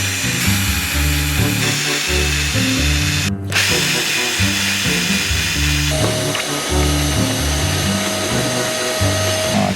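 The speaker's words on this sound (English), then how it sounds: "that is to drill a countersink" A power drill whines loudly and steadily while boring a countersink hole on an old yacht, its pitch shifting as it bores, with one brief cut-out midway before the drilling resumes.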